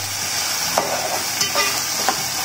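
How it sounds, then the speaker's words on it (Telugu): Ingredients for a ridge gourd and dry prawn curry fry in a pan, giving a constant, fairly loud hiss with a few brief stirring scrapes, and no voice. "కొంచెం సేపు వేయించుకుంటే సరిపోతుందండి."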